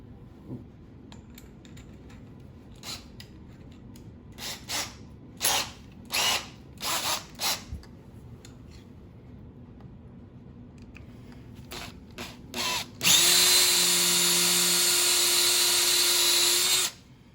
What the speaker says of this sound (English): Next, we'll run that counterbore tool.